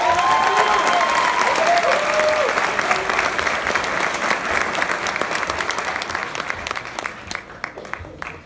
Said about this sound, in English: Let's give Mr. Aquino one more big round of applause.